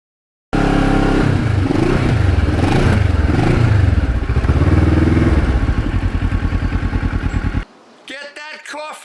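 A Kawasaki Ninja EX650R motorcycle under way, its engine note loud and close, rising and falling through revs before settling into a rapid pulsing throb and cutting off abruptly, leaving faint clicks.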